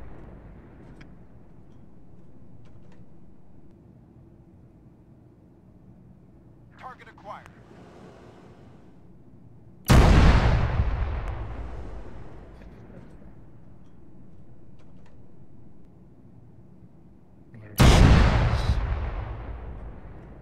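Artillery bombardment: two loud, booming explosions about eight seconds apart, each decaying in a long rumble, over low background noise with faint voices between.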